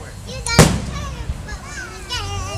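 A single sharp firework burst goes off close by, followed by excited child chatter and adult talk over a noisy outdoor backdrop.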